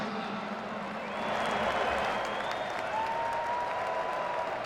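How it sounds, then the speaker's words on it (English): Crowd applause for sponsors at the Alamo Bowl college football game, a broad wash of clapping that swells after a second and holds steady at moderate distance. "A big round of applause for our sponsors tonight."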